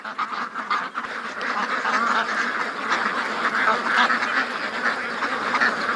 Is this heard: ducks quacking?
yes